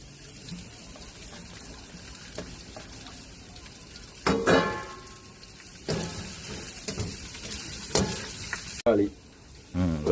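Freshly chopped onions drop into hot oil with chillies in a pan, a sizzle that surges as they land and are stirred, with clinks of a utensil and some water sounds.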